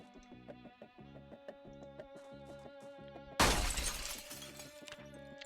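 Glass shatters loudly in the zombie survival game Project Zomboid, a sudden bright crash that decays over about two seconds over steady rhythmic game music.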